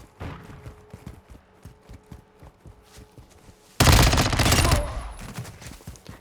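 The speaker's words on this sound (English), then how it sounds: "It is 2 different guns shooting" Two X13 guns firing in Call of Duty Modern Warfare II: a rapid string of quieter, evenly spaced shots, then a sudden loud burst of dense automatic fire that fades out.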